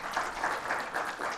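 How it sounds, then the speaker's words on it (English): A brief burst of fairly quiet, steady clapping from an audience at a panel event, welcoming the panelists. "applause for being here"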